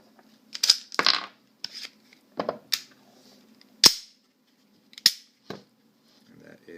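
A Glock pistol with a Gen 4 slide fitted to a Gen 2 frame feeds ammunition, giving a string of sharp, close metallic clicks and clacks separated by short pauses.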